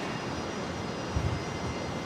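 A jet aircraft taking off at Brisbane airport rumbles as a steady, fairly distant engine roar with a low throb, heard alone without talk.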